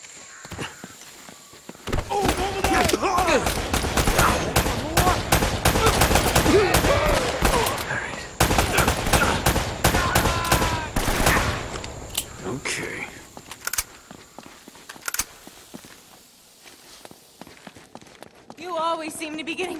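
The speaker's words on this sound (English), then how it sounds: "Seem to be getting shot at." Gunfire in the video game Uncharted: Drake's Fortune, dense bursts of shots crackling through much of the stretch amid footsteps and scuffling, thinning out toward the end, with voices talking over the action.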